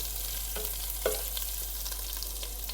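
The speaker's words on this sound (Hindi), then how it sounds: "ठीक है, लहसुन अदरक हमारा जो है वो ब्राउन हो रहा है।" Chopped garlic and ginger fry and brown in a pan, giving a steady, faint sizzle close by. A few soft stirring clicks break through the sizzle.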